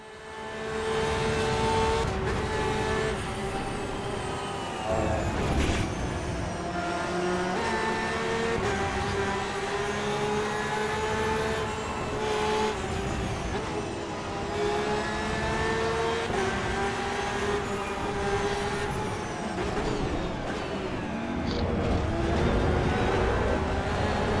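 Race car engines in Assetto Corsa EVO at the Nürburgring roar loud and continuous while overtaking, with revs rising and falling over a steady dense drone and no talking.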